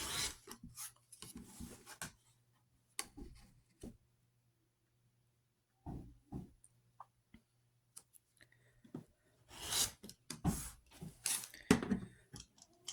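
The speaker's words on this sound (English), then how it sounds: "we can go ahead and trim off the excess fabric" Scissors trimming excess quilt fabric a quarter inch from a seam, a handful of short rasping cuts in separate bursts with quiet pauses between, close and fairly soft.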